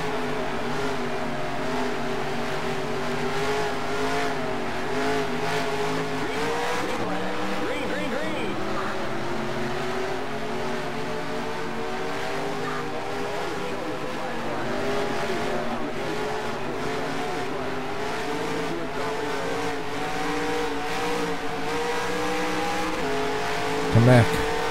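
A race car in the racing game NASCAR Racing 2003 slides in a drift, its engine a loud, steady drone that wavers in pitch throughout as the throttle is worked, with a faint tire squeal.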